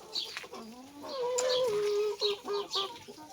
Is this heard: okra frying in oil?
no